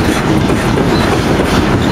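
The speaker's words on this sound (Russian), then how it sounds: "Вот зерновоз пошел." Freight train of grain hopper cars rolling past close by, a steady loud rumble with continuous rail clatter and no talk.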